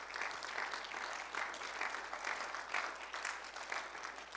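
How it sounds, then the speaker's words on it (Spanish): A church congregation claps in thanks during a Spanish-language sermon, a steady mid-level wash of applause that keeps going through the whole stretch with no voices on top. "¿Por qué no le da un aplauso al Señor de agradecimiento ahorita en este momento?"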